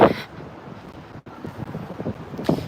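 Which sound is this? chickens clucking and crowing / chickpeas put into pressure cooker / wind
wind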